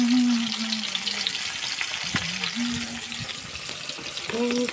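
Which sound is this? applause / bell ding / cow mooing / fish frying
fish frying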